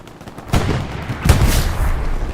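An anti-tank gun in a video game fires at tanks, two sharp booming shots about three-quarters of a second apart, the second louder, followed by a rumbling battle din.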